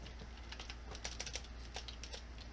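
Rapid, irregular keystrokes on a computer keyboard during play of the Elysium Project World of Warcraft server, steady clicking over a constant low hum, with no talking.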